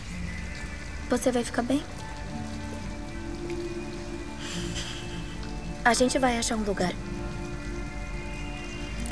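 Steady rain patters on surfaces in the video game Detroit Become Human, a constant soft wash beneath two bursts of voices talking.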